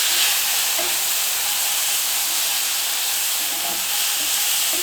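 Garlic and tofu fry in a pan, giving a continuous, even hiss of sizzling oil that stays loud and close, with no talk over it.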